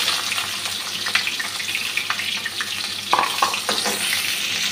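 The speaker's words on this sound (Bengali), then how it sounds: "পেঁয়াজটা ভাজা হয়ে যাচ্ছে" Onion sizzles and fries steadily in a pan in a home kitchen, a continuous crackling hiss with occasional stirring clinks and scrapes, no one speaking.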